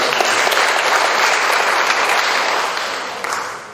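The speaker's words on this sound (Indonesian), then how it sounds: "Mohon aplaus untuk beliau." Sustained audience applause for the Jakarta governor at a formal inauguration ceremony, a dense, loud wash of many hands clapping that holds steady before tapering slightly near the end.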